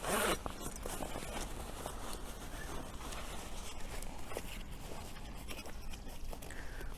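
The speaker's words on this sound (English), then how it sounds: "I just pull that zipper" A rucksack zipper is pulled open to detach a 10-liter bag from the pack, giving a close, continuous rasping zip that runs steadily for several seconds with small handling rustles.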